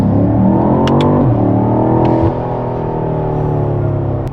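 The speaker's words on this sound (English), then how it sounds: "this car has a cold air intake system. So if you guys can hear that from inside the cabin" Engine of a car fitted with a cold air intake, heard from inside the cabin while driving, a steady loud drone with rising pitch early on, then a slight drop and an even hum, with no talk over it.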